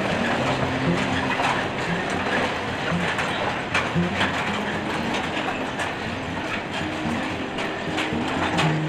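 A narrow-gauge sugar mill lorry train from the Jatiroto mill runs on track beside village houses, giving a steady, loud mechanical rumble with rattling and clanking wagons throughout, no talk.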